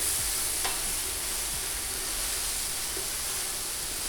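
Chicken for a fajita salad frying in a pan, a steady loud hiss of sizzling with a few faint scrapes and knocks of stirring, no talking.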